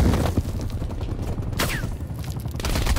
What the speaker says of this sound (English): where the freak am I getting shot from?